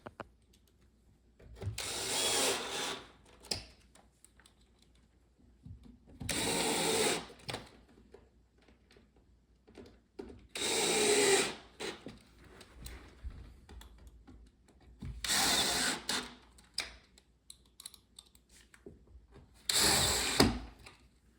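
Power drill driving screws into a farmhouse shoe bench, five separate bursts of whirring a few seconds apart, each lasting about a second, with quiet handling noise between them and no talk.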